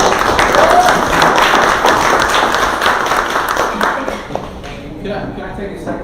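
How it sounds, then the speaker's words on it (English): Audience applause at a small-business presentation in Eustis, Lake County. Clapping is loud and fairly close with talk mixed in, then fades out after about four seconds. "let's give Pam and George a round of applause."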